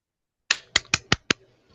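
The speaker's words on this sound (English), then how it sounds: "let's give her a little round of applause" Sparse clapping from participants in an online staff meeting, a handful of separate claps spread over about a second, thin and close as if through laptop microphones, with no talk.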